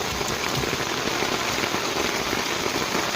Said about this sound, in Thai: ฝนตกหนักมากเลยค่ะ